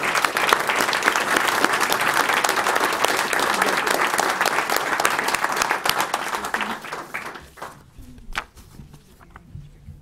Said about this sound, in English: Let's have one more round of applause for the new council member.